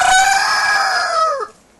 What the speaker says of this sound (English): thank you for your help, cockerel